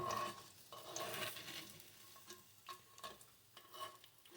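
Bacon frying in a pan gives off a crackling sizzle, broken up by repeated scraping and stirring sounds from a utensil, close and fairly quiet.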